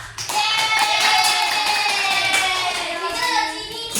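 A group of schoolchildren clapping their hands in a classroom, a close, lively burst of rapid overlapping claps that starts abruptly and stays steady for several seconds, with a few young voices mixed in.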